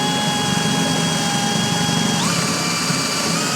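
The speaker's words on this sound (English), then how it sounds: "I'm going to drill through the cabinet." A power drill bores through a wooden kitchen cabinet with a steady, loud whine whose pitch steps upward partway through as the motor speeds up or the bit breaks through.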